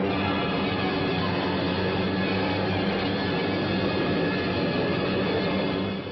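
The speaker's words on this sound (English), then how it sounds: "Jap bombers bored in." Japanese bombers in wartime flight produce a steady, loud, broadband engine roar that holds unbroken throughout, with no voices present.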